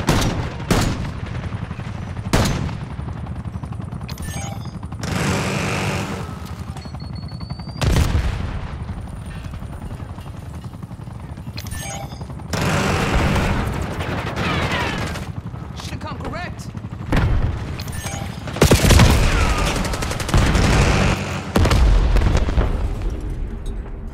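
Heavy gunfire and explosions in Call of Duty Black Ops 6 multiplayer, sharp shots, bursts of automatic fire and booming blasts erupting irregularly and loudly, with a radio announcer voice speaking between them.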